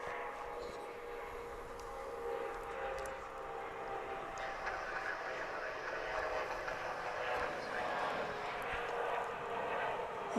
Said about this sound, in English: These regional jets climb into the sky really fast.